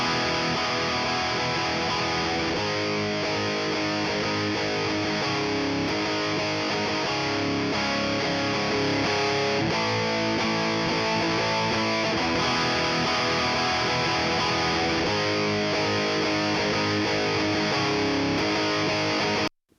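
Big, heavily distorted electric guitars run through a Warm Audio compressor, playing a dense, sustained riff at a loud, even level for the whole stretch before stopping abruptly at the end.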